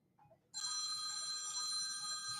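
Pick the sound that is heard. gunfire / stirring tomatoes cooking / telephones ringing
telephones ringing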